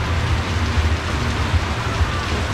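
Steady rain falls outdoors at a market in Jakarta, a dense, even patter of drops on surfaces that is fairly loud and constant throughout, with no clear talk over it.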